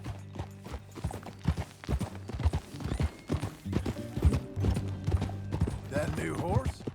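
Horse hooves clip-clopping in a steady riding rhythm in the Red Dead Redemption 2 video game, moderately close, mixed with game music and brief voices.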